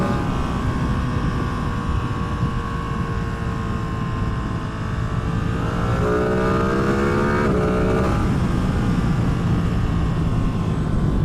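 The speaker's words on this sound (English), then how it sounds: "It's got a good induction howl coming from somewhere up here." Ducati Streetfighter V2 motorcycle on its stock exhaust, engine droning steadily with a rising induction howl that climbs in pitch mid-clip, then drops back; loud, continuous, no voices.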